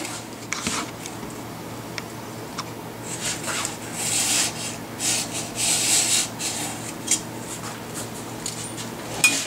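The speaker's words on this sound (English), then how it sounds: "you can get some coarse sandpaper or a piece of a 1-inch wide belt and run it back and forth," A gun stock is sanded with coarse sandpaper or a strip of 1-inch belt in a gunsmith's shop, giving a steady back-and-forth rasping that is close and alone and grows denser and louder in the second half.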